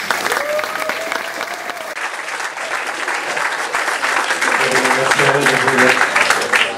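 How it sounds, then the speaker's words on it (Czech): Steady, loud applause from a crowd at an exhibition opening in a congress centre, welcoming a speaker to the stage, building slightly toward the end with faint voices beneath. "Prosím, přivítejme společně potleskem pana Roberta Vana."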